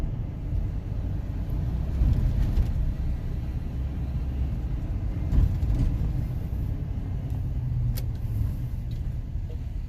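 An old shop truck drives along a road near a park and airport, giving a steady, loud low engine rumble and road noise from inside the cab with no talking.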